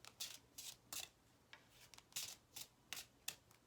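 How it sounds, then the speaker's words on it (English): Tarot cards being lightly shuffled, giving a string of about ten short papery riffles in an irregular rhythm, close and fairly quiet, with no talk. "One more of these and I'm going to do a light shuffle."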